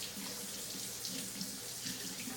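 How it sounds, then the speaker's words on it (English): Tap water runs steadily from a faucet into a sink to wet a cleaning cloth in a household kitchen, a continuous close splashing hiss with no speech. "just wet the EnviroCloth with just water."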